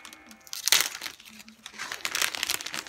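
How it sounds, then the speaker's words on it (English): Scissors cut through plastic packaging on a Kracie Popin' Cookin' sushi candy kit, giving loud crinkling and snipping bursts close up with brief pauses between them. "so I'm just gonna cut that real quick"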